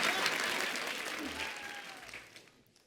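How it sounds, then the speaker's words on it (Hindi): Studio audience on a Kapil Sharma comedy show clapping loudly for arriving guests, a dense burst of applause that gradually tapers off. "शरद भाई और एमी पाजी के लिए जोरदार तालियां"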